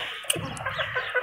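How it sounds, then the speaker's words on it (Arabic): Chickens gather close around someone cleaning vegetables and catfish with kitchen shears, giving a few short, nearby clucks over a soft background hum, with no talking. "انا معوده الفراخ كده يقعدوا حواليا وانا بعمل اي حاجه."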